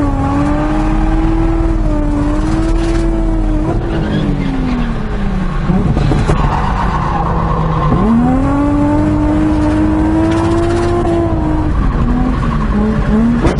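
A Nissan 350Z race car howls around a track at speed, its engine droning loud and constant as tires squeal in long, wavering screeches through the corners, with the pitch dipping and climbing as it brakes and accelerates.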